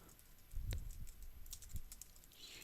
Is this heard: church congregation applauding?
no